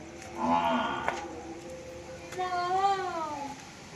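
A water buffalo lows twice at a dairy farm, a short call followed by a longer drawn-out one with a falling pitch, close by and without talk.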